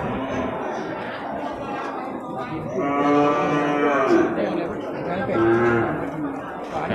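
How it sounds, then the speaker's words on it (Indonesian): Aceh cattle, cows with their calves, mooing at a busy livestock market in Bireuen. Several long, loud moos rise over steady crowd chatter and background talk. "ini di depan kita ini kan ada pedet ya berserta dengan indukannya"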